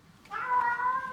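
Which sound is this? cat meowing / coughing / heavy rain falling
cat meowing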